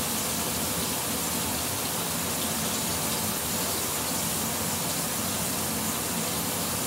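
Cubed venison searing in a little oil in a hot pan, a steady dense hiss and crackle that holds evenly throughout with no talking.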